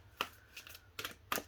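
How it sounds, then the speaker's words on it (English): Tarot and oracle cards are riffled in three quick, soft bursts, close and quiet with short pauses between them. "One more shuffle."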